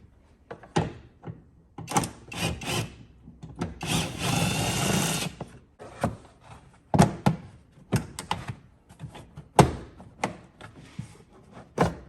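Tools working on a 2004-2009 second-generation Prius as two 10mm bolts are removed: irregular clicks, ratcheting bursts and one longer whirring run, close and moderately loud, with knocks and pauses between.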